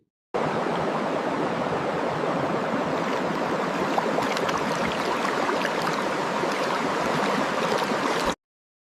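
Gas bubbling into a liquid during a diffusion experiment produces a constant, dense hiss of bubbles, steady and fairly loud, that starts and stops abruptly.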